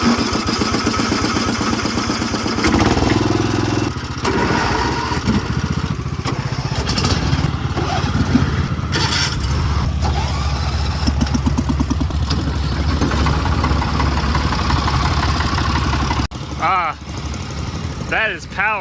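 Several lawn tractors, including a John Deere, Cub Cadet, Husqvarna and Murray, plus a golf cart, run together with loud, steady engine drone and clatter, close by, with voices talking over the engines.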